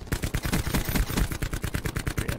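Dense, rapid gunfire in a multiplayer shooter video game, sustained automatic bursts striking the player continuously, loud and close with a steady rattling rhythm throughout.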